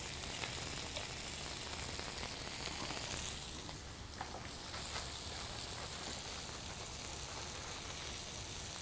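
Italian-style turkey burgers sizzling in a pan, a loud continuous frying hiss with crackling pops throughout, no talking.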